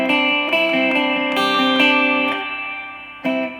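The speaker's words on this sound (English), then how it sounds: "That with the Univibe actually works really well." An electric guitar rings out sustained notes and chords through a Univibe effect, a warm, wavering tone fading out before a final struck chord, with no talk.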